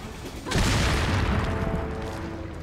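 Dynamite blast in Resident Evil 4 Randomizer: a sudden deep boom that erupts after half a second of quiet, then a heavy rumbling roar and debris that stays loud and slowly fades, with game tones beneath.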